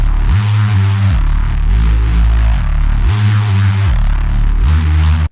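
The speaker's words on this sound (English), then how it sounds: "a patch from my latest Phase Plant preset pack called Prophecy, which is the Filth Bucket Reese" Filth Bucket Reese neurofunk bass patch from a Phase Plant synth preset: a loud, continuous, gritty detuned bass drone with a slowly sweeping filter wobble, played alone before cutting off abruptly.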